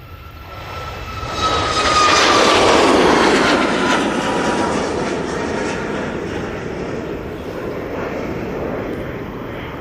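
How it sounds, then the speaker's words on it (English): A Boeing 737 MAX jet on its takeoff roll at Manchester Airport, the engine roar building to a loud peak early on and then easing into a sustained, slowly fading rumble and whine, heard outdoors without talk. "Right now, 737 Max on the roll."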